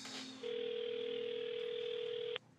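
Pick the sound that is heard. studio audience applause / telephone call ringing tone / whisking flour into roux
telephone call ringing tone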